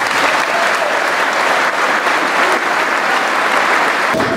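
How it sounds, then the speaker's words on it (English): A crowd at a Pearl Harbor 75th anniversary remembrance ceremony applauds veterans with loud, dense, sustained clapping that stays even throughout with no talk over it. "help me welcome again these patriots with a grateful nation's round of applause"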